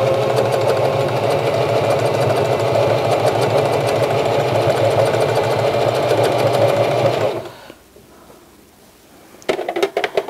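A regular home sewing machine stitches a free-motion quilt in a fast, steady, close mechanical whir for about seven seconds, then stops, leaving a quiet pause and a few faint clicks and handling sounds.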